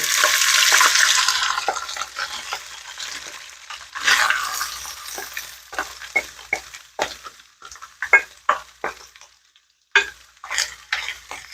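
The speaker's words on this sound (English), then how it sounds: "Okay, the oil is already hot, so I'm gonna put the meat here." Shredded beef dropped into hot oil, a loud burst of sizzling that fades, followed by a series of sharp scraping and stirring knocks against the pan.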